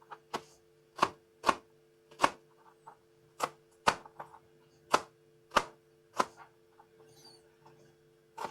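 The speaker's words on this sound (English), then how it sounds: "cut the onion." A knife chops an onion on a board during a budget lentil recipe, about a dozen sharp, crisp strikes at an uneven, unhurried pace, close and distinct over a faint steady hum.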